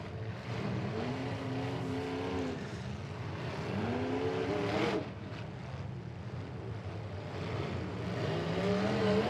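Race car engines roaring around a track during a Bash for Cash turn-back-the-clock class race, repeated rising and falling engine passes at moderate distance, one car sweeping by after another.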